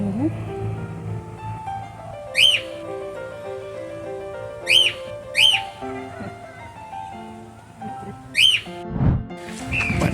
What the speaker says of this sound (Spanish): En realidad estas aves son pero espectaculares.